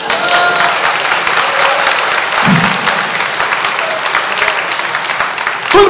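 A church congregation claps together in a sustained, dense round of applause that stays loud and continuous throughout, heard up close in a large room.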